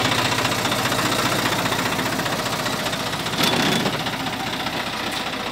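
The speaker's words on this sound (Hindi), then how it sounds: "क्या ट्रैक्टर धाड़ मार रहा है।" A Swaraj 960 FE tractor engine runs close by with a loud, even, pulsing throb and a faint knocking texture, continuous throughout with a brief brighter burst partway through.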